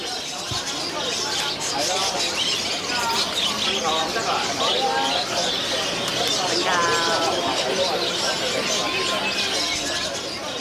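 Caged birds at a Hong Kong bird market chirp, tweet and coo continuously, dense overlapping calls at close range with a busy crowd murmur underneath.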